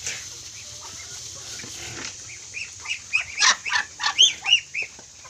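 Farm ducks near native pigs on a rural provincial farm let out a quick run of loud, rhythmic quacks that build in the second half after a quieter start with faint background animal noise.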